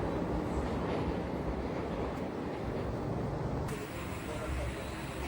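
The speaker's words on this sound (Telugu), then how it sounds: "నర్సాపురం బండి అది." Narsapuram train rolling past, a steady broadband rumble of wheels and carriages that holds loud and close for several seconds, easing slightly near the end.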